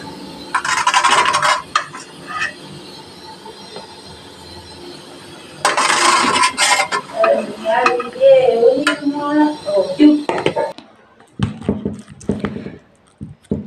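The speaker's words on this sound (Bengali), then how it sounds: "একটা গামলায় নামিয়ে নিচ্ছি খেজুর।" Homemade date filling for sugar-free date rolls scraped and clattered from a pan into a bowl, with bursts of metallic scraping and clinking close by, pauses between, and brief quieter handling at the end.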